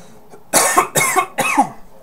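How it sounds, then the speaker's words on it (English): Three close, harsh coughs in quick succession, each a short forceful burst, with no talking around them. "Got this cough today."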